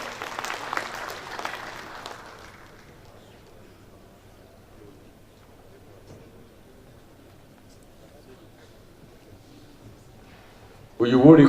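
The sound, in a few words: audience applause at builders' conference opening ceremony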